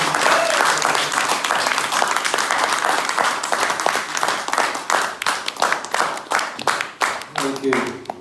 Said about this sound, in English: I hope that you will now give a round of applause to congratulate Nabin Chettri